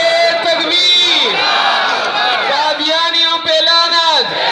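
A large gathering at a religious rally roars back in unison to a takbir call, many voices shouting and chanting together in loud, overlapping waves with sustained cries.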